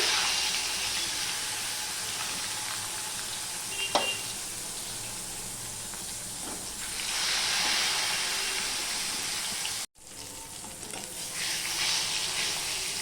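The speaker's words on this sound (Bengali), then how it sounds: "এবার মাছগুলো আমি ভেজে নিচ্ছি" Rohu fish rubbed with salt and turmeric sizzling steadily in hot oil in a wok, a close, continuous crackling hiss with occasional spatters and a brief clatter partway through.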